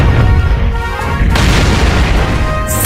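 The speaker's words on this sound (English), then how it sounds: "It makes it sound like an explosion" A loud, booming explosion in the PS4 video game Shin Hayarigami 2 as a stick tail strikes a giant robot, with a heavy impact partway through and sustained rumbling debris.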